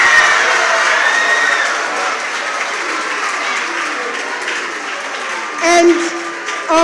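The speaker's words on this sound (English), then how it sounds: "resounding applause, I don't know for which of the schools" Resounding applause from the audience at a junior high school quiz final, a loud sustained wash of clapping with cheering and shouting children mixed in, swelling again briefly near the end.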